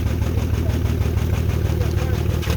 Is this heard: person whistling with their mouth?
no